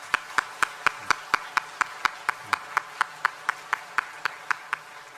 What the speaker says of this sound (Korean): 옆에 계신 분들께 우리 감사와 격려의 박수를 드리겠습니다